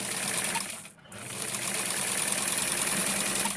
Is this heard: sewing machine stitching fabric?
yes